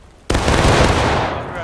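Musket volley fired together in the Civil War sim game War of Rights: one sudden loud crack at once, then a long rolling roar and echo fading slowly.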